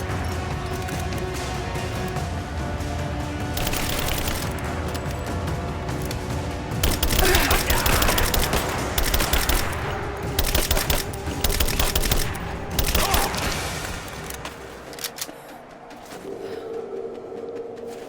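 Sustained gunfire in Rise of the Tomb Raider on Hard difficulty, dense bursts of rapid shots and crashes layered over game music and effects, loud and continuous before easing near the end.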